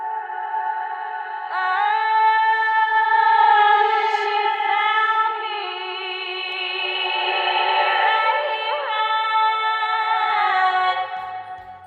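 A sustained sung female vocal is washed in reversed 'ghost' reverb, so its tones swell up before each note instead of trailing after it and form a smeared, hovering, layered pad that holds at a fairly even level for about twelve seconds.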